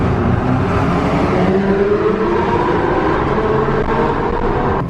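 A Rolls-Royce Ghost's exhaust drones loudly and steadily in a tunnel, boomy and reverberant, with the engine note rising gradually.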